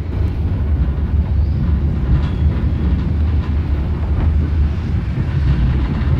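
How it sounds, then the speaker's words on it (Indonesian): The Logawa train rumbles at Kertosono station as a loud, continuous low roar and rolling drone. The sound holds steady for the whole stretch with no voices. "Tiba di Kertosono, kereta Logawa berpapasan dengan KA Doho."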